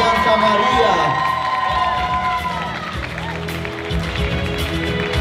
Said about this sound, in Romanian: Și aplauze pentru învingători Simon Dragoș Eduard